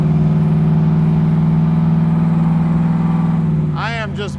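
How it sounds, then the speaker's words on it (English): A 1968 Chevrolet Camaro Convertible engine idles with a steady low rumble, giving a gentle rev near the end as the accelerator is barely touched, while a voice begins talking over it. "I am just barely touching the accelerator. She has got a beautiful sound to her."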